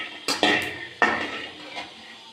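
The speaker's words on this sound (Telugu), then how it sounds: "కావాల్సినవి వేరుశనగపప్పు, ఎండు కొబ్బరి, పల్లీలు, కొబ్బరి ఇలా వేయించుకోవాలి" Peanuts and dried coconut dry-roasting in a pan, giving a few sharp clatters and scraping stirs of metal against the pan with a light rustle between them.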